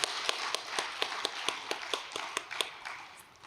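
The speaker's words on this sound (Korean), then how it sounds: "우리 고생하신 또 수고하신 우리 총무팀과 시설팀 직원분들을 위해서도 감사의 박수를 보내주시면 고맙겠습니다" Audience applause of thanks for staff at a Korean religious gathering, a soft, steady patter of many clapping hands heard from a distance, fading gradually toward the end.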